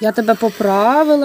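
A young turkey hen hisses at close range in a poultry yard, a short harsh hiss set against a woman's speech that runs through most of the moment.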